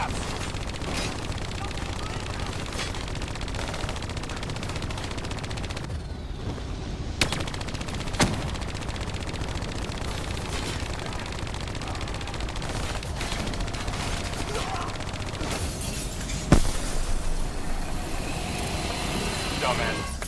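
Rapid automatic gunfire rattles through a battle in Call of Duty: Black Ops 3, with bursts layered over a constant din of combat, engines and scattered blasts, and a voice occasionally heard under the action.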